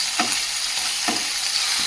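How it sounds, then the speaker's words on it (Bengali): Fish frying in oil with onion and chili, a continuous close crackling sizzle broken by a few sharper stirring scrapes. "এই মাছগুলো পেঁয়াজ লঙ্কা দিয়ে ভাজা করব।"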